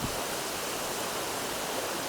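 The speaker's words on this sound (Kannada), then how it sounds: "ಫಾಲ್ಸ್ ನಂಬರ್ 2 ಈಗ 2ನೇ ಫಾಲ್ಸ್ ಥರ ಸಿಕ್ಕಿದೆ" A monsoon waterfall on the Netravathi Peak trek roars in a continuous, dense rush of falling water, close and unchanging.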